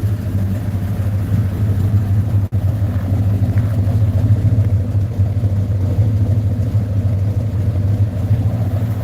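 A modified car engine with the same cam but raised compression idles steadily at close range, a loud, even low rumble with one brief dropout partway through.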